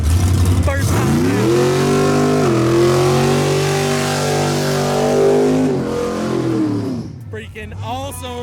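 A custom-built car engine revs loud and steady for about six seconds, rising and holding a high pitch before dropping off, with cheering voices around it.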